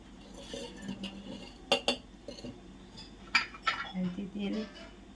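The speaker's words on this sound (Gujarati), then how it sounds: "તો ઈડલી બનાવવાનું ડીશ લઈ લઈશું." Metal idli plates being picked up and handled, with a few sharp clinks and clatters near the start and middle, plus softer rattles amid light background noise.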